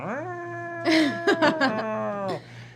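A cat yowls and caterwauls in long, wavering howls, with a louder burst of several sharp rising cries in the middle before settling back into a drawn-out yowl; close and alone.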